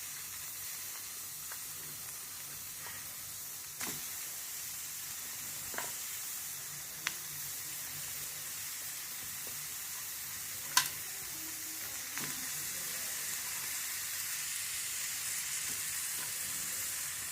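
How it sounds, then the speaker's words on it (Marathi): Small amount of oil with tomato, chilli, onion, garlic and ginger roasting in a pan, a soft continuous sizzle with occasional sharp pops and the scrape of stirring spaced through it. "तर पहिल्यांदा अगदी थोडं 1 चमचा तेल घालून भाजून घ्यायचं सगळं."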